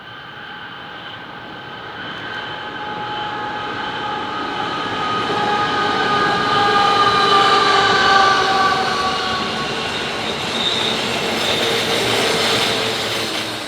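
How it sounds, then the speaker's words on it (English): A containerised grain freight train on the Main South line in New South Wales rumbles past with a broad, steady roar that swells toward the middle and fades slightly, squealing faintly from the wheels. "a containerised grain train heading from Sydney to southern New South Wales"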